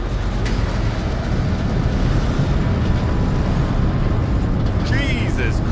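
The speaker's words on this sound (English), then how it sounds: "During the explosion, the game really gets loud." In the video game Still Wakes the Deep, an explosion roars as a loud, continuous low rumble that fills the whole stretch, with a brief higher whine near the end.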